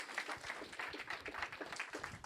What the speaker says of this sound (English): Round of applause for this gentleman for volunteering.